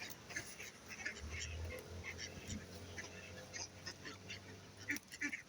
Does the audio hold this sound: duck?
yes